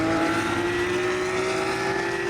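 Race cars at a racetrack roar past in a loud, steady engine drone with a sustained whine, close and continuous with no talk.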